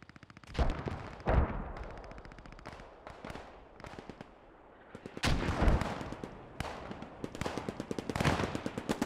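Machine gun fire in the WWII shooter Post Scriptum, bursts of rapid shots mixed with heavier distant booms, some bursts close and loud, others fainter.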